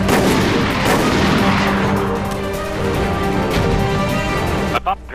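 Grenade launcher fire in the co-op shooter Resident Evil: Operation Raccoon City, a dense, continuous roar of blasts and battle noise with a voice over it, dropping away abruptly near the end.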